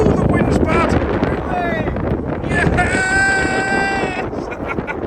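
Strong wind gusts buffet the microphone at a seaside fishing spot in Morecambe, a steady roaring rush that fills the clip, with faint voices and a brief tonal whine partly buried under the blustery noise.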